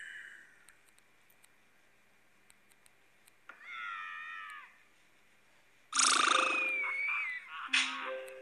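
A cat meows a couple of times, a short drawn cry followed later by louder, longer meows up close, separated by quiet stretches with faint clicks.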